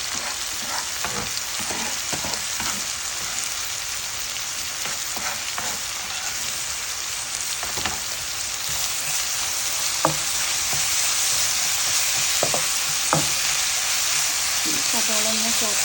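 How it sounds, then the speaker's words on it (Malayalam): Onions sauté with salt in a pan over a medium flame for a kappa and boti curry, giving a steady close sizzle with occasional stirring scrapes and taps. "സബോള ഒന്ന് സോട്ട് ചെയ്ത് കൊടുത്തൊരു മീഡിയം ഫ്ലെയിമിൽ ഇട്ടിട്ട് നിന്ന് സബോള വാടുന്ന വരെ നമുക്ക് വെയിറ്റ് ചെയ്യാം"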